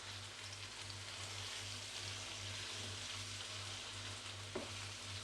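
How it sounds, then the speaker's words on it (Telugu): Two eggs sizzle steadily in a hot pan for egg curry, a soft continuous frying hiss with a faint stir or tap near the end. "ఇప్పుడు ఇందులో ఒక 2 ఎగ్స్ అయితే వేసుకుంటున్నాను. వేసుకొని ఇలా కొద్దిగా ఫ్రై చేసుకోవాలి."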